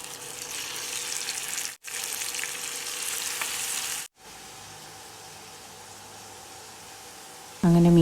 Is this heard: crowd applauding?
no